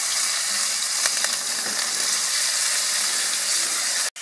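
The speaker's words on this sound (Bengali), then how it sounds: "প্রথমে আপনি চিংড়ি আর চিকেনটাকে হালকা তেলে ভেজে নিন, স্টার ফ্রাই করুন" Shrimp and chicken stir-frying in a little oil for noodles give off a loud, steady sizzle with a few brief scraping stirs, holding constant to the end with no voices.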